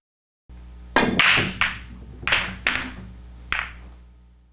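A 9-ball pool break: a sharp cue strike followed by several distinct clacks of billiard balls colliding and bouncing, spaced irregularly over a few seconds and fading as the balls spread.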